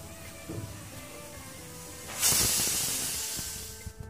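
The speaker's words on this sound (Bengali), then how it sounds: "তো আমার বাসি কিন্তু বেজে গিয়েছে" A pressure cooker cooking beef with potatoes lets out a loud burst of hissing steam from its whistle, rising suddenly and holding steady for nearly two seconds over a quieter kitchen background.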